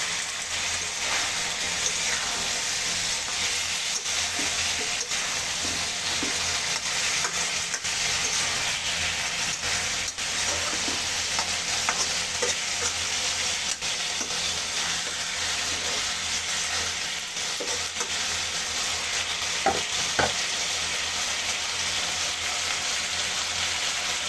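Flat beans frying in a pan of oil after the fish has been lifted out, a broad, steady sizzling hiss running continuously with faint scattered clicks, close and fairly loud.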